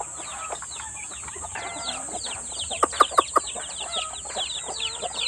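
Chickens in their nighttime roosting area on a farm give steady overlapping clucks and chirps close by, with a few sharper louder calls near the middle; no one speaks.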